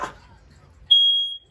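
Indoor smoke alarm set off, a single loud high-pitched electronic tone lasting about half a second after a brief voice and a quiet stretch.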